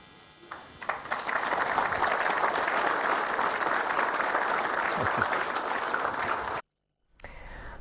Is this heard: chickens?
no